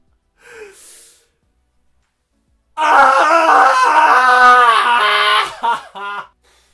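A man imitates animal cries with his voice, a long strained groaning howl that wavers in pitch, then a couple of shorter bursts, loud and close after a faint breathy sound.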